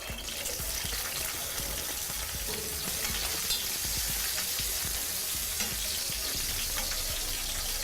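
Onions frying in a thin drizzle of oil for a sorrel and sardine dish give a steady, dense sizzle with a constant crackle that stays even and close throughout, with no talking.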